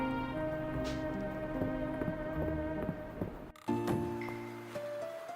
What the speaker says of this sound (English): Oh, we got rain today.